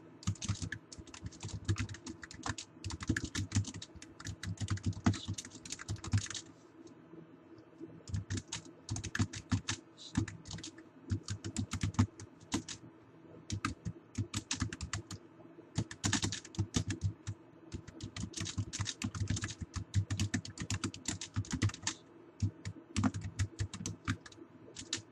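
Typing on a computer keyboard, with quick bursts of soft key clicks and brief pauses between them, close and fairly quiet throughout, including copy and paste shortcuts.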